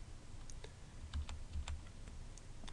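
Someone types on a computer keyboard, with quiet, irregular key clicks in short bursts close by and no other sounds.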